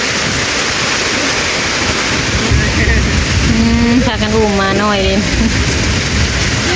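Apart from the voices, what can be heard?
heavy rain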